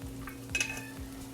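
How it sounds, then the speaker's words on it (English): Hot grease sizzles in a frying pan on the stove, a quiet steady hiss with a brief metallic clink of a spoon partway through. "you'll see it's sizzling"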